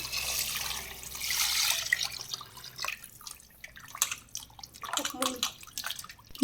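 Water splashes and drips as ram mutton is rinsed by hand in a vessel, with irregular sloshing bursts and trickles.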